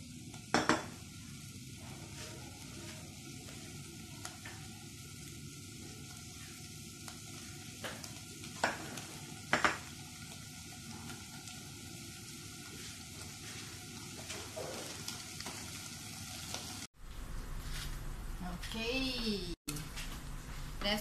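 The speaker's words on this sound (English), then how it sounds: "This also slow heat. Now slow heat. And then roast chili." Chili roasting in a pan over slow heat for a pork-crackling chili paste, giving a steady low sizzle with occasional scraping stir clicks and pan knocks, followed by a brief louder burst of frying near the end.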